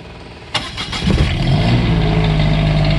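A small RV generator with a glow plug cranks briefly with a sharp start, then catches and settles into a steady, loud, close droning idle.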